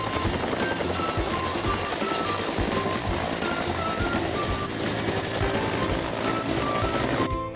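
Loud, continuous helicopter rotor sound effect from a toy car matching puzzle, pulsing steadily with a whirring drone before cutting off at the end.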